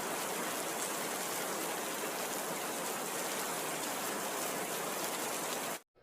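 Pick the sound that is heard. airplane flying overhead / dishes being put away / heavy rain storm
heavy rain storm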